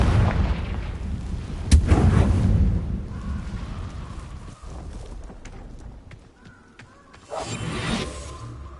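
A Confringo fire spell going off in Hogwarts Legacy: a loud, close explosive burst and whoosh followed by a rumbling tail, then a second whooshing blast near the end, with dense game sound effects underneath.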